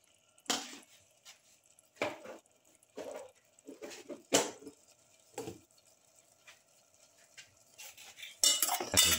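A spoon stirs chicken with turmeric, black pepper and mixed spices in a pot, giving a series of sharp metallic scrapes and clinks in an irregular rhythm, close and fairly loud, with no talking.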